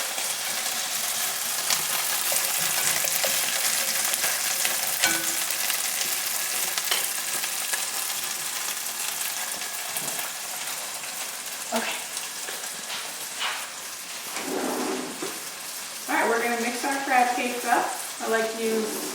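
Asparagus sizzling in a frying pan as it is rolled, a steady crackling fry that carries throughout, with soft clinks and scraping from the pan and a voice briefly speaking near the end.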